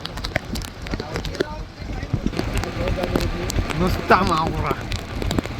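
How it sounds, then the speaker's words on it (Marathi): Heavy rain at sea during a boat outing with Koli fishermen, a steady broadband wash of drops and wind under loud, continuous conversation and excited voices close by. "आणि खतरनाक पाऊस आहे, खतरनाक."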